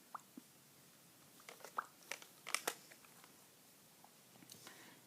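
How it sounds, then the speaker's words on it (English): Chewing grapefruit melon sugar-free gourmet gum close to the mic, quiet wet smacks and soft crunches scattered irregularly over a hushed background, with no talk. "Here's some gum I'm chewing, by the way."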